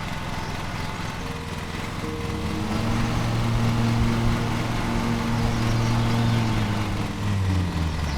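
A lawn mower engine in the Lawn Mowing Simulator video game, a steady buzzing drone that grows a little louder and holds constant throughout.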